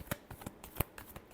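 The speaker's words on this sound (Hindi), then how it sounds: "last shuffle" A short burst of tarot card shuffling: several quick, close riffle clicks in an uneven rhythm, with one stronger snap near the middle, heard alone.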